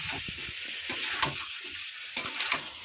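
Spice paste mixed with poppy seed paste sautés in oil with a close, crackling sizzle, broken by scraping stirs and short clicks of the spoon against the pan.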